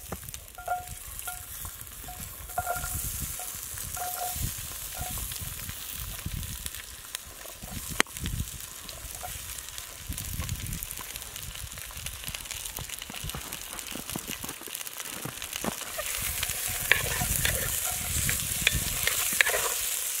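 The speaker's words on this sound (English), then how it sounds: "We got our pan nice and hot, and we're just going to throw in the potatoes to start with." Diced potatoes fry in a hot pan over a campfire, giving a continuous crackling sizzle with scraping stirs and small pops, close and steady throughout; no talking is heard.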